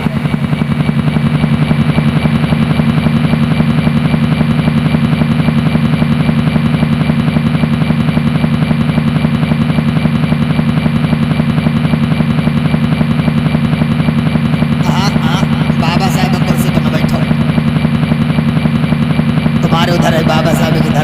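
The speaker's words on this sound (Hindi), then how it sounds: "लंदन की बैठक में उनका हेलीकॉप्टर उतर रहा है।" A loud, continuous helicopter rotor thrum with a steady low drone fills a staged live tableau performance, with brief bursts of other noise near the end.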